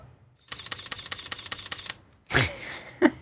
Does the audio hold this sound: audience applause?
no